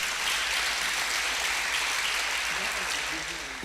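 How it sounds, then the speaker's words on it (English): An audience at a security workshop applauds steadily, a dense wash of clapping filling the room from start to finish, with a faint voice briefly audible beneath it near the end. "Please, let's give him a round of applause"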